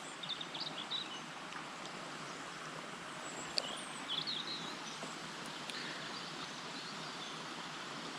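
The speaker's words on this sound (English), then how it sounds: "Birds having their morning conference." Morning birds chirp faintly in scattered short calls beside a river in Welsh countryside, heard over a steady broad rush of flowing water.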